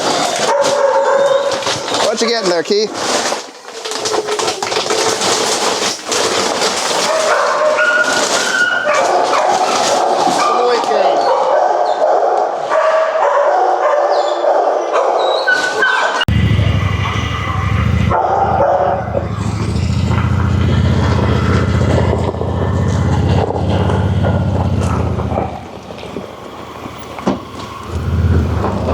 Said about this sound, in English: And these guys are barking.